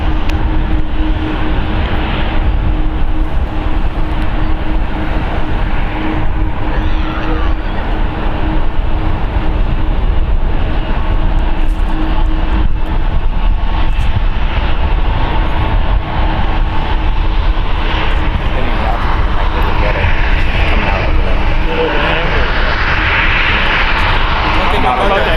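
A jet airliner roars steadily on its takeoff roll at San Francisco International Airport, a loud sustained engine rumble lasting throughout, with radio voices from air traffic control heard over it.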